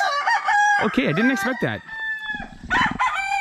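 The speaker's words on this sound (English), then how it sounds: "These are big cockfighting chickens." A cockfighting rooster in a backyard near an Iban longhouse in Malaysia crows loudly and close by in long, wavering calls, with clucking around it and someone talking over parts of it.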